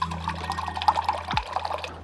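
Sparkling water pours into a glass with a fizzy, liquid splash, close and fairly loud over a low steady hum, ending in a brief gurgle near the end.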